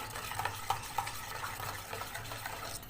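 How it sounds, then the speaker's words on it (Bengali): Mango-flavoured Rasna drink mix being stirred and blended by hand, with a few soft clinks of a utensil against the container over a quiet, low background hum. "ব্লেন্ড করে নেবো।"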